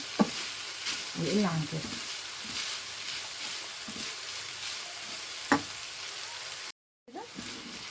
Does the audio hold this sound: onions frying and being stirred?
yes